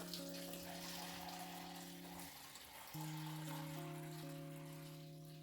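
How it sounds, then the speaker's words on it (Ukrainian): Cold water runs and splashes steadily into a saucepan holding jars of cucumbers for canning, a soft continuous pour with faint sustained tones in the background. "Заливаємо водичкою, теж має бути холодна водичка."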